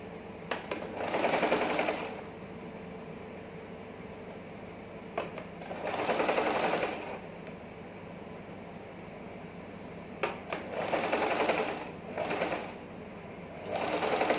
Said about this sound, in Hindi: इसको चेन और कपड़ा एक साथ पकड़ते हुए सिलाई कर देंगे